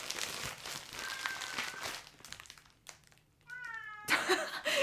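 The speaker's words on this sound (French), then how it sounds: "Et il y a mon chat qui se met à miauler, bien sûr." A cat meows several times, including a drawn-out, rising call with clear harmonics, amid rustling and crinkling noises nearby.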